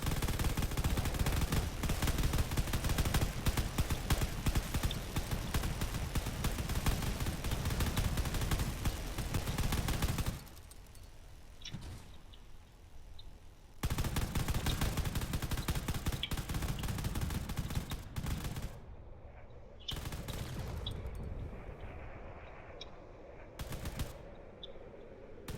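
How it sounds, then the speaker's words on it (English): Rapid cannon fire in the space combat game Drone Wars, as warships trade shots in a big battle: dense, continuous bursts of fast, loud shots that pause briefly, then resume in shorter volleys with gaps of quiet in between. "All this cannon fire"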